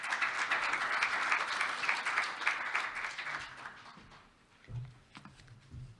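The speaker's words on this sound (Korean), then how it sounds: "상무님께 큰 박수 부탁드리겠습니다" Audience at a breakfast leadership forum applauding a speaker, a steady moderate clapping that tapers off, followed by a brief voice at a microphone near the end.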